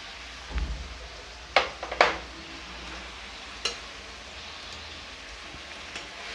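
A spiced mixture frying in a pan for Bihari ghugni, stirred with a few sharp scrapes and clinks over a faint low sizzle, quiet gaps between strokes.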